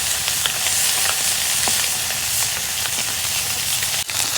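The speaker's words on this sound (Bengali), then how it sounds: "2 খোলা মাছ ভাজা হয়ে গেল" Large fish pieces frying in hot oil, a steady loud sizzle with crackling pops that runs the whole time, close up with no talk.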